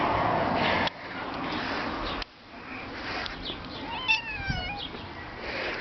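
A pet cat gives a short, wavering meow partway through, fairly close but not loud, over a quiet indoor background with a few handling bumps.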